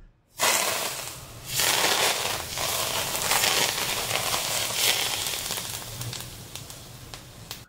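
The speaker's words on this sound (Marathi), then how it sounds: "आता ह्यामध्ये कडकडीत तेल वतायचं" Very hot oil poured into coriander puri dough, sizzling and crackling steadily and loudly for several seconds close up, a dense broadband fizz with a few sharper pops.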